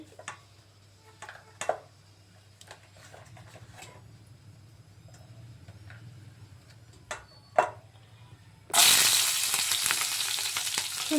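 Cinnamon, cloves and other whole spices drop into hot oil in a heated pan, giving a sudden loud crackling sizzle after some quiet clinks and taps of utensils.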